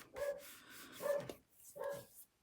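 A dog barks at a postman in the street, three distinct barks spaced about a second apart, moderately close and alone without speech.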